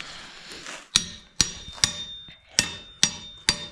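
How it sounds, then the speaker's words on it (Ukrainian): Hammer blows ringing on the front drive axle of a T-40 tractor: six sharp metallic strikes with a bright ring, evenly spaced about half a second apart, close and loud. "Молоточком струк."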